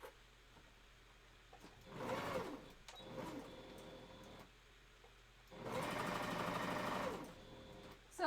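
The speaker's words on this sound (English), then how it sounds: "So if you're sewing with a machine" A sewing machine stitches fabric in two distinct runs, a short one and then a longer steady burst, separated by quiet pauses with small handling clicks.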